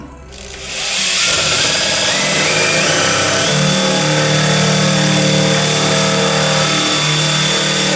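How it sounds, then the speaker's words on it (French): Cordless drill boring with a 15 mm Forstner bit into laminate, a loud, close, continuous motor whine that spins up within the first second and holds steady under load. "Sur la visseuse là j'ai une mèche Forstner de 15."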